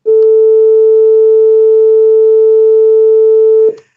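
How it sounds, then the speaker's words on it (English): A single pure sine wave tone for a binaural beat sounds loud and steady for about three and a half seconds, with faint overtones, then cuts off abruptly. "I'll play you right now the first sine wave pitch."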